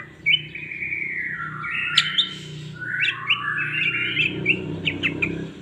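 A caged green leafbird (cucak ijo) sings a series of bright, rising and falling whistled phrases with quick chirps, fairly close and clear over a low background hum.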